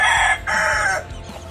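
A rooster crows loudly and close by, two long strained calls in a row, then a quieter trailing clucking sound.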